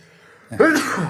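A man sneezes once, loud and close, after a quiet moment in a casual indoor conversation.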